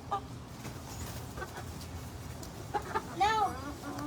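Farmyard chickens cluck in short bursts close by, faint and intermittent, with a louder squawk near the end amid quiet outdoor background.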